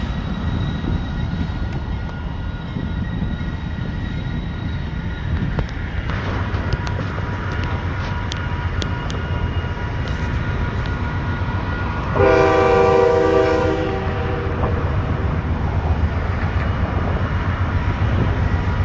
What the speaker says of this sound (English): We got a train doing the Y maneuver.